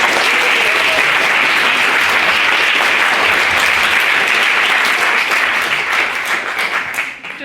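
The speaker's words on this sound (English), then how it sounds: "Give Katie a massive round of applause" Loud, dense applause from a debate audience, steady sustained clapping that fades slightly toward the end.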